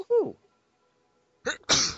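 Someone nearby sneezes sharply once near the end, after a quick exclaimed voice at the start and a quiet pause, during a Legend of Zelda Ocarina of Time play session.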